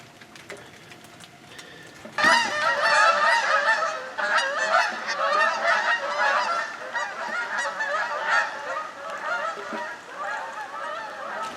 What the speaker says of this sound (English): The geese are flying today